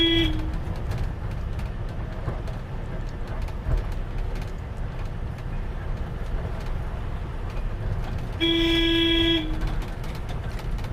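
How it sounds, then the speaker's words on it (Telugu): A vehicle sounds its horn twice at a blind curve on a ghat road in Andhra Pradesh, one brief blast at the start and a longer one near the end, over a steady engine rumble. "ఏంటండి పీపీ అని హార్న్ కొడుతున్నాడు పెద్దగా అని డౌట్ రావచ్చు"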